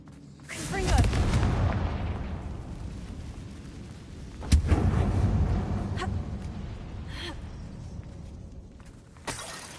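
Confringo blasting spell cast in a Harry Potter video game on PS4, two loud booming explosions a few seconds apart, each with a sharp crack and a long rumbling, crackling decay, followed by a fainter hit.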